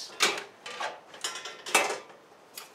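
Metal pots and pans clank and clatter in a handful of sharp, irregular knocks, close by, with no voices.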